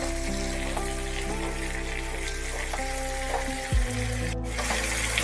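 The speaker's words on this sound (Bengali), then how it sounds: "লবণ হলুদ পটলে দিয়ে পটলটাকে ভালোভাবে আবার একটু নাড়াচাড়া করে দিতে হবে" Pointed gourd fries in a pan with salt and turmeric, a loud continuous sizzle close up with occasional stirring scrapes and a brief clatter, under a steady hum.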